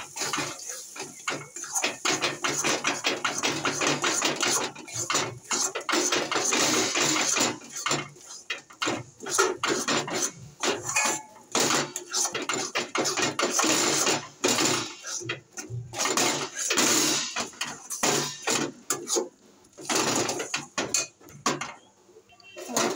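Salted lentil paste stirred in hot oil in a pan, with dense, continuous scraping and sizzling clatter of a utensil against the pot, fairly close and busy throughout with brief pauses.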